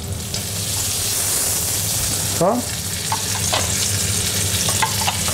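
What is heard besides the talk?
food frying in a pan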